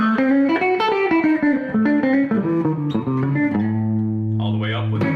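Electric guitar on the middle pickup combination through a Fender Twin amp, playing a run of bright picked single notes and chords that ends on a sustained, ringing chord, loud and close.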